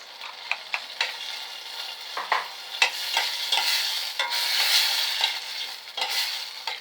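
Minced meat sizzles in a hot pan with cauliflower dish ingredients while a utensil stirs and scrapes, producing repeated clicks and taps over a steady frying hiss.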